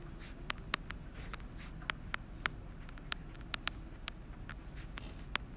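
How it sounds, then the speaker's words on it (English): Handwriting on a surface produces faint, scattered taps and short scratches at an irregular pace over a steady low hum, quiet and close, with no speech. "we literally have to write everything we just wrote"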